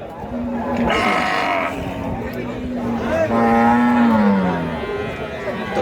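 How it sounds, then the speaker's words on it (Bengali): Dairy cows at a farm moo in two long, low calls, the second rising louder, close by, with a person talking in the background. "সুন্দর সুন্দর গাভী দর্শক দেখছেন রফিকুল মামার কালেকশনে"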